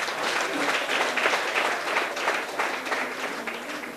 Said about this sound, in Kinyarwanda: Reka dukomere Imana yacu amashyi.